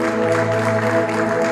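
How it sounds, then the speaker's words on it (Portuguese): Congregation applauding together during a church worship service, a steady dense wash of clapping with sustained tones from music or voices running underneath throughout. "Vamos aplaudir o Senhor."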